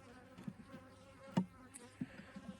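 Honeybees in a fall beehive opened for inspection give a soft, steady hum with a few bees zipping close past in brief louder buzzes, quiet overall and free of talk.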